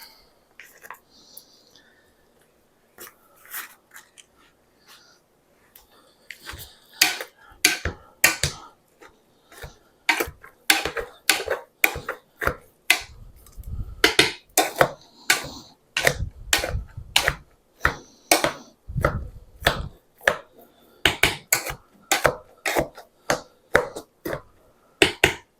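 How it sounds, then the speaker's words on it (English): Potatoes being mashed with a hand potato masher, a string of sharp, percussive thumps and squelches against the bowl that start sparse and pick up into a steady, fairly loud rhythm. "We're just going to mash those. Get my potato masher here."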